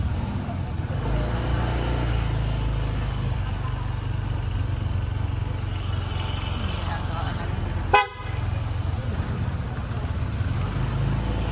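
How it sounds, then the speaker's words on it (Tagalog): A brief, loud, deep bass car horn blast cuts through steady traffic and engine rumble, close by and near the end. "Pangbas na busina."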